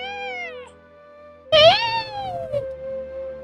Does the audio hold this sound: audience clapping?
no